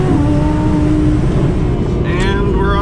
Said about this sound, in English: Now I sound like an Aventador.